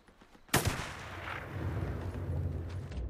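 A single sharp, loud gunshot in the video game Days Gone, followed by a rumbling echo and low ongoing battle noise, with fainter pops of distant fire before it.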